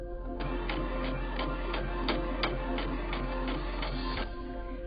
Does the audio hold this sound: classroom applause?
no